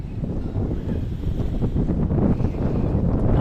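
Strong seaside wind near the Pangilby Bridge roars and buffets the microphone in a steady, dense rumble that fills the whole stretch, with no talk over it.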